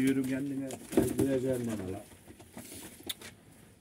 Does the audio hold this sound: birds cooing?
yes